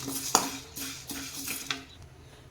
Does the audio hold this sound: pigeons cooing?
no